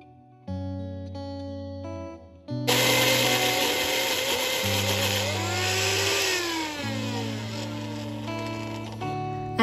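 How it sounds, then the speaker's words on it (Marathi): A kitchen mixer grinds blanched spinach leaves into a fine paste without water, whirring loudly in bursts that start, rise and stop, with a harsh rubbing buzz between motor runs. "आपण मिक्सरमध्ये ह्याची बारीक पेस्ट करून घेणार आहोत"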